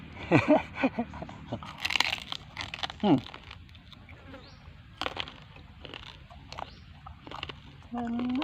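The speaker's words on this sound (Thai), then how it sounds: "ฟังเสียงเลยครับกรอบว่ากรอบ" Crispy roasted Thai pork mask (na-kak mu op) crunching as it is bitten and chewed outdoors, a run of sharp, close crackling bites with pauses, mixed with voices talking.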